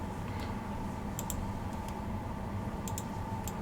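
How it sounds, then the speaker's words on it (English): Sharp clicks of the escape key being tapped on a computer keyboard come in small clusters of two or three, crisp and close over a steady background hum. "Sometimes you can't get that, so you got to tap the escape key a whole bunch of times"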